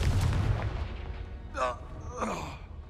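A deep booming rumble from a Confringo blasting curse in the Hogwarts Legacy video game fades out over a couple of seconds, followed by two short breathy voice sounds like a grunt or gasp.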